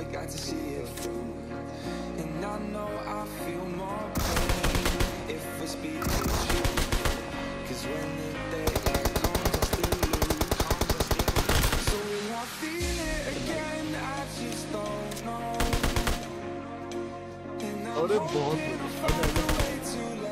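SKS rifle fire in BGMI/PUBG Mobile comes in repeated rapid bursts of sharp shots over a continuous musical backing, with quieter stretches between the volleys.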